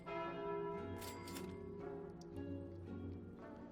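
Calling Bell relic in the card game Slay the Spire ringing with a resonant, sustained bell tone that decays slowly, a couple of bright overlapping strikes near the start, clear and alone at moderate volume.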